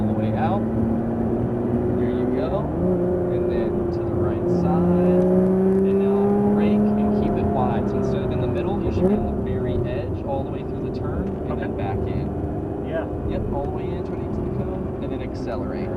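A Lotus Evora GT powers out of a wide turn on a race track at Cresson, Texas, its engine droning steadily with rising and shifting pitch while an instructor talks over it throughout.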